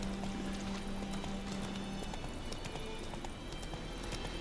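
Hooves of the horse Roach clip-clop steadily in The Witcher 3: Wild Hunt, a moderate rhythmic trot over a constant game ambience with a low tonal hum.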